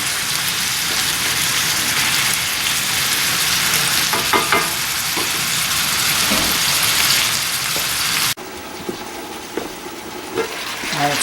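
Summer vegetables frying in a single pan, giving a steady, loud, dense sizzle that continues unbroken, dips briefly near the end, then carries on.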